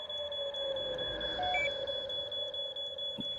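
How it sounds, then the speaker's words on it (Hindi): Electronic beeping from a device in a scene of the Bollywood horror comedy Laxmmi Bomb, a steady high tone with a couple of short bleeps, heard alone with no talk. "देखो ये बीप स्लो होती जा रही है।"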